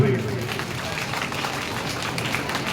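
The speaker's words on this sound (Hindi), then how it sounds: "तालियां जोरदार बनती है भाई।" An audience at an awards ceremony gives a dense, even round of applause that holds steady throughout, with a voice talking over it.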